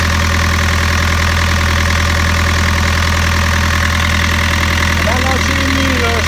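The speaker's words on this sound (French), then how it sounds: "Alors chérie, tu peux me faire partir le moteur?" Boat engine in a hot engine bay running at a steady idle, a loud continuous low rumble with a regular knocking rhythm, while a person speaks briefly near the end.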